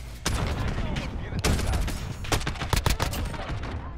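Assault rifle fire in Call of Duty Modern Warfare rattles in rapid loud bursts, close and dense, with short gaps between volleys.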